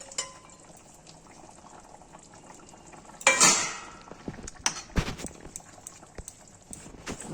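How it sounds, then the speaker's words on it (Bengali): Fish curry gravy bubbles in a pot with fried fish pieces, soft, close, irregular bubbling and popping, with one louder burst of sputtering midway and then scattered plops. "ঝোলটা ফুটছে"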